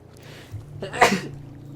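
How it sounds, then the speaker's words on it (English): A single sneeze bursts out near the mic about a second in, sharp and brief, over a low steady hum from a Cities: Skylines PC game session, with no talk around it. "Excuse me, I sneezed."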